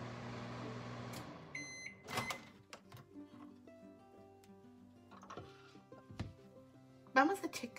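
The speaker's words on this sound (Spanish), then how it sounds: "Y lo pondremos a máxima potencia, la potencia máxima que tenga tu microondas" A microwave oven set to maximum power bakes a small bread, a quiet steady hum with a few sharp beeps and clicks, while a person talks.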